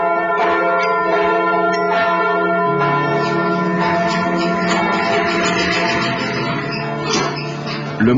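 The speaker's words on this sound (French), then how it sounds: "les carillonneurs de Québec reprennent enfin les commandes de leurs cloches" Bells of the Anglican cathedral of Quebec, including a three-quarter-ton tenor bell cast by the Whitechapel Foundry, pealing together in a dense, loud and continuous ring of overlapping strikes with long, rich overtones.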